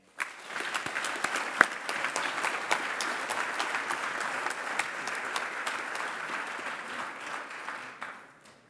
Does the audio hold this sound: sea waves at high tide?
no